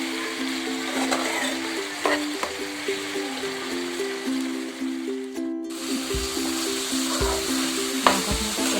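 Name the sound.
chicken meat frying with lai greens in pan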